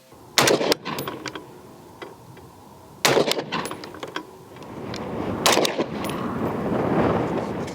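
A PSA JAKL rifle with a 13.7-inch barrel fires while its EOTech EXPS sight is zeroed at 50 yards, three loud sharp shots a few seconds apart, each followed by a brief echoing tail.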